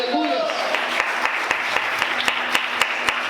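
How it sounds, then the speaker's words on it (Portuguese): Church congregation applauding God during a sermon, a brisk wash of clapping with sharp rhythmic claps standing out at a steady beat, mixed with voices near the start. "Você pode aplaudir a Deus?"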